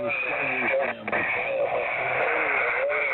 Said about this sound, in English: This guy brings up a web SDR and he plays the internet stream out over the radio.